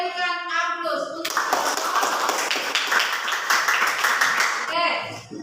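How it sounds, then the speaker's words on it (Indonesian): Classroom applause for a student's correct answer, a burst of many hands clapping together for several seconds, loud and dense, fading out as voices resume. "Kita berikan aplaus untuk"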